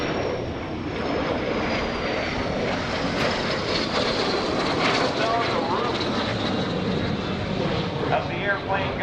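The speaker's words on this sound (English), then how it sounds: "Now back in from the right, Pirate Crunchy, they just love showing off these beautiful aircraft." Military jet making a display pass at the 2016 NAS Oceana Airshow, a steady loud broadband engine roar sustained throughout, with crowd noise and possible voices mixed underneath.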